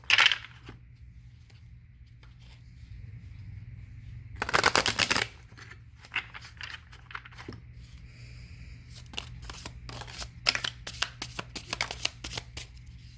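Tarot cards are shuffled by hand in irregular bursts: a brisk riffle at the start, a louder shuffle midway, then a run of quick, crisp slides and flicks, close and unaccompanied by talk.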